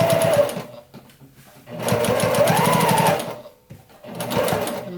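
A sewing machine runs in three rapid bursts of stitching while quilt rows are sewn together, its needle rattling steadily with short pauses between, loud and close.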